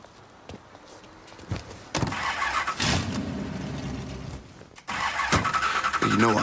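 Car engine cranking to life in a Mafia III drive scene, a short starter whir followed by a steady mid-pitched idle, with a door clunk and rising engine noise near the end, fairly close and loud.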